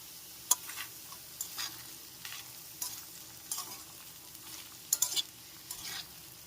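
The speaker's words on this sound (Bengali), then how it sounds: "লাউটাকে বেশ কিছুক্ষণ নেড়ে চেড়ে নিয়েছি" Bottle gourd pieces stir-fried with green chilli and a little salt, a low sizzle broken by repeated scraping stirs of a spatula in the pan, close and rhythmic, with a sharp clink or two.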